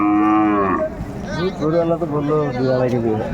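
A cow lets out a loud, drawn-out moo, followed by more lowing and mooing amid the murmur of a busy crowd at a cattle market in Ambari, Dinajpur.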